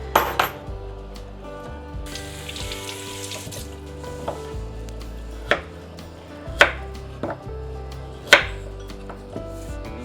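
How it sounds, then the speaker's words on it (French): Carrots being chopped into thin rounds on a board while preparing vegetables for a Japanese chicken curry, a few sharp distinct knife knocks over steady kitchen background sound, with no talking. "Les carottes, pour faire simple, je vais les couper en petits rondelles comme ça"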